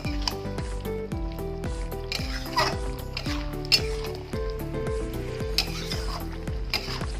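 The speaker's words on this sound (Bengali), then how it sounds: "এবার ভালো করে একটু নেড়ে দেবো।" A spoon stirs drumstick and potato chorchori with green chillies in a sizzling pan, making repeated rhythmic scraping strokes close up over a constant frying hiss.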